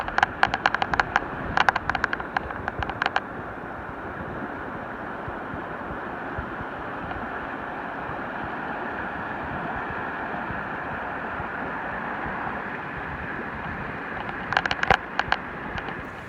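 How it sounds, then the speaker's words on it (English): A mountain river in the Wind River range rushes steadily with a broad, continuous roar of flowing water outdoors, and brief clicking sounds appear near the start and end. "The sound of the river is just amazing."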